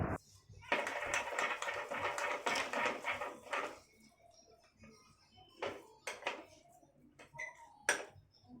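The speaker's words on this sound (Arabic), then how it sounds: "لازم نقلب كويس جدا." Stirring a burger meat mixture in a home kitchen pot: a run of dense scraping, clattering utensil-on-pot strokes for a few seconds, then sparser separate clinks and taps, close and fairly loud, with no talking.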